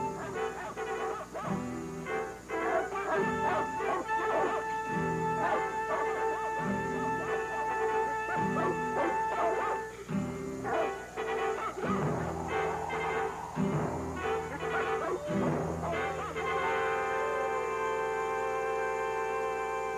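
Hunting dogs bark and yip in repeated bursts, with excited whimpers and howl-like cries over a steady musical backdrop. The dogs are fairly close, and the barking grows busier toward the end.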